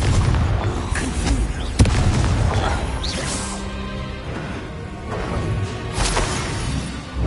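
Spell blasts in the Hogwarts Legacy video game, with an explosive Confringo strike among loud crashes, booms and whooshes that run continuously through a busy combat mix.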